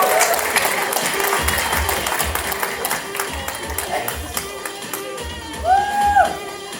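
Wedding guests applaud in a sustained burst of dense clapping with crowd murmur, steady throughout and swelling slightly near the end.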